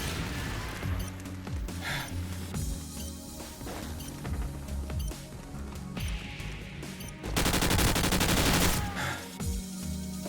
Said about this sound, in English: Airstrike standing by.